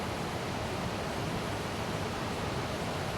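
A forest waterfall pours in a steady, dense hiss of rushing water, loud and continuous with no pauses or voices.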